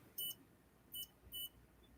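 A kitchen scale gives three short, high electronic beeps in an uneven rhythm, fairly faint against a quiet room, with no talking.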